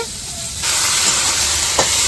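Yardlong beans hiss and sizzle in a hot pan on a clay stove, the sizzle jumping louder partway through, with a brief scrape of stirring near the end.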